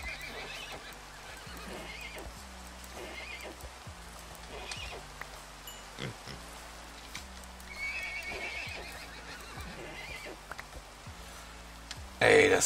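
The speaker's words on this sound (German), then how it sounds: "Warum sind hier so viele Pferde?" Several horses neigh and whinny amid steady clip-clopping hooves in the steampunk video game, repeated calls over a continuous low stamping bed, with faint rain-like hiss and a loud burst at the very end.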